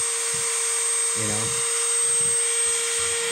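A rotary carving tool with a large bit works on wood, giving a constant high electric whine with brief low grinding bursts as the bit bites into the wood.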